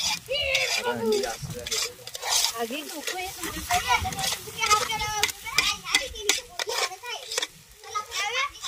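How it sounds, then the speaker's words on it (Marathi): Egg bhurji stirred in a pan with a spoon, with scraping and light sizzling under near-constant talk from children and adults in a home kitchen. "आता बुर्जी असंच हलवायचं असतं."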